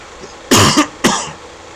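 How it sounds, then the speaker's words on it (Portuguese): A person coughs twice in quick succession, close and loud, with a brief throaty rasp between the bursts, in an otherwise quiet room. "eu tô com um pouco de pigarra e tosse"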